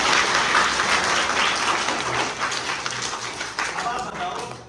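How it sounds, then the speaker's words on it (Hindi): Children at a school cleanliness-awareness session clap together, producing a dense, loud burst of applause that holds strongly and then slowly thins out toward the end. "जोरदार ताली।"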